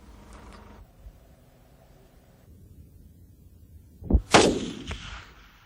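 Gunshots ring out during a traditional Mongolian hunt on open hillside, two or three sharp loud reports in quick succession near the end, each trailing into a short echo after a stretch of quiet outdoor ambience.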